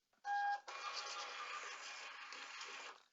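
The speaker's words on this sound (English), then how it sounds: "And we'll go to the printer again." A label printer runs off a shipping label at a warehouse pick-and-pack station: a brief high beep, then a steady whirring feed of about two and a half seconds that stops abruptly, heard close and alone in a quiet room.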